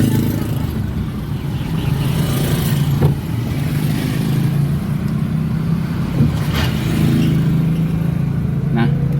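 A car engine pulling in first gear, a low steady drone with slight revving swells, while people talk over it throughout.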